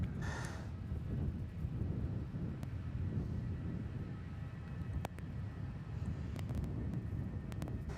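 Jetstar Airbus A320 airliner departing Melbourne Airport, a steady broad low roar of jet engines with wind buffeting, continuous and moderately distant, no voices.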